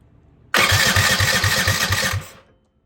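Small engine with a choke pulled, unused for a long time, cranks and fires with a loud rapid chugging pulse for about two seconds, then dies away, heard alone close by.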